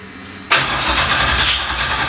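A reverse-flowed LS V8 engine fires up abruptly and then runs loud and close with a rough, steady idle rumble that fills the rest of the moment.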